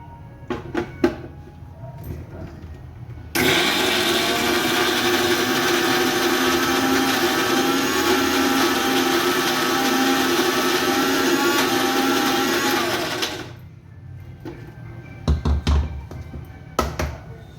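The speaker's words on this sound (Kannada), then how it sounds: "ಇದನ್ನು ನಾನು ಮಿಕ್ಸಿ ಮಾಡ್ಕೊತೀನಿ." A mixer grinder grinds horse gram masala in a home kitchen, running loud and steady for about ten seconds, then winding down, with short clatters before and after.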